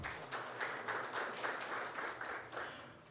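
Faint audience applause at a consumer defence commission ceremony in Angra dos Reis as a sustainability specialist joins the panel: many hands clapping in a soft, even patter that lasts throughout, heard from a distance.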